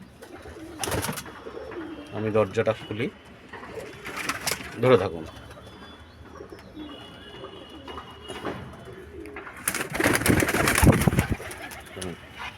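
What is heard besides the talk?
pigeons cooing after being let out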